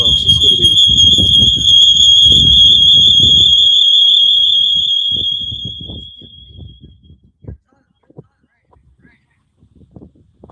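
A loud, steady high electronic beep sounds near a newly installed wood stove during its first burn, continuing under talk for several seconds before cutting off, then quieter handling noises and speech follow.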